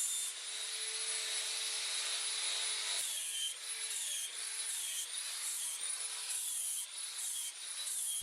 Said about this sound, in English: And again, cleaning the inside. In this occasion, that abrasive disc I was using before worked excellent.